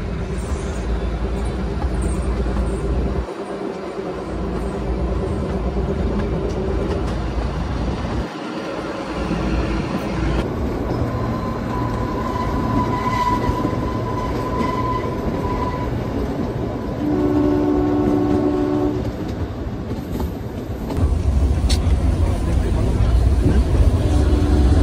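The Kalka–Shimla toy train pulls out of Kandaghat station, a steady rumbling roll of wheels on narrow-gauge track with squealing tones and clattering joints, close and continuous, with faint talk mixed in.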